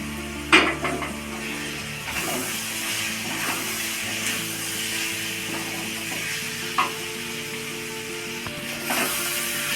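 Boiled chickpeas tipped into a pot and stirred for a chickpea curry, with metal clinks and scrapes of a spoon against the pot over a low steady sizzle, a few sharper knocks standing out.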